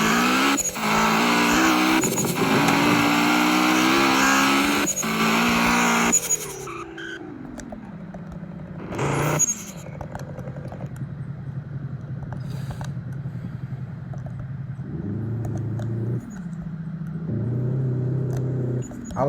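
Engine of a track-ready block car in a Roblox driving game, 268 horsepower, revving hard through gear shifts with tire squeal and skids, then settling into lower idling and brief revs.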